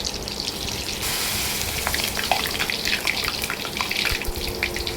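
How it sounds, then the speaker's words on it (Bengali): Battered flowers frying in hot oil for Bengali fritters (bora), a steady close sizzle and crackle with brief spits and pops, continuing without talk. "এই ফুলগুলোকে ভালো করে ব্যাটারের মধ্যে ডুবিয়ে তারপর তেলে এপিট ওপিট করে ভেজে নিতে হবে।"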